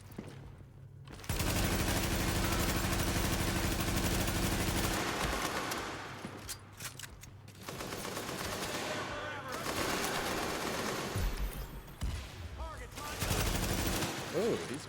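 Bursts of automatic gunfire and weapon shots ring out in The Division's survival mode, loud sustained volleys broken by brief pauses, with someone talking over parts of the action.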